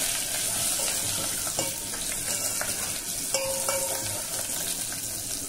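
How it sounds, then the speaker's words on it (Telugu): Garlic tempering for rasam sizzles and crackles steadily in hot oil in a home kitchen, with close, continuous frying hiss and occasional stirring clinks and light pops, and no speech. "రసం తాలింపు"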